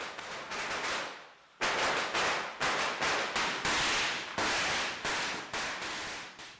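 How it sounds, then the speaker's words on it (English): Rapid bursts of firecrackers in China crackle loudly in long rattling strings, each volley a dense run of sharp pops with brief gaps between. "They set off firecrackers on their way to the new house."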